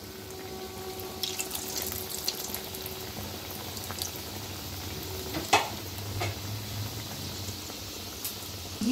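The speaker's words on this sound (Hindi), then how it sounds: "लौंग लतिका को हम फ्राई करते हैं।" Laung latika sweets fry in hot ghee with a constant soft sizzle, punctuated by a few brief clinks and stirring taps, fairly quiet and close.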